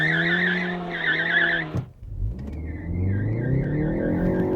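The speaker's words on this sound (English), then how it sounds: "I'm just going to pound the throttle and we'll see what happens" A Ford Focus ST launches hard, engine roaring loudly up through the revs before a brief gear-change dip, then pulling again as the tyres slip and chirp under power, with traction control cutting in.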